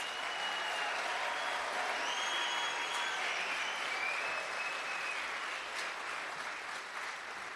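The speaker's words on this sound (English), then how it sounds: "So let's give all the tribes a round of applause" An audience at a casino event applauds tribal representatives in a broad, sustained roar of clapping with a few whistles on top, easing slightly toward the end.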